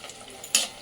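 Bengali lentil dumplings (bori) dropped into hot oil for sukto give one short, bright sizzling burst near the end of a quiet kitchen moment.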